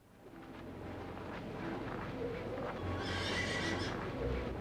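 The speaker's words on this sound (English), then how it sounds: "And a horse with wings came galloping, neighing wildly" Hooves pound in a steady gallop, then a horse gives a loud, shrill neigh near the end, with faint birdlike sounds in the background.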